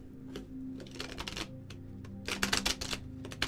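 A deck of tarot cards being shuffled by hand, with bursts of riffling and flicking that grow louder and denser toward the end, under a steady low hum.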